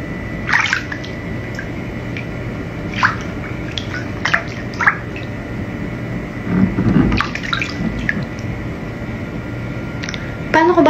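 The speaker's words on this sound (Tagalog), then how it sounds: "I'm in a shower." Water runs steadily in a shower, a constant hiss with occasional splashes, while people talk over it.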